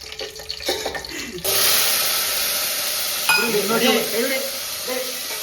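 Spices for a tempering hiss and sizzle in hot oil for a vegetable pulao, a sudden loud, steady crackle that starts after a moment of quieter kitchen sounds.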